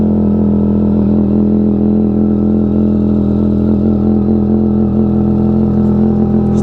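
A Yamaha XSR900 motorcycle ridden at night, its engine holding a steady, loud, close drone with faint pitch shifts throughout, and no voices over it.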